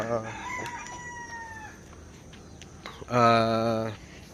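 RTL chickens on a farm, with a rooster crowing twice, the second crow long and loud, among nearby clucking and soft background noise.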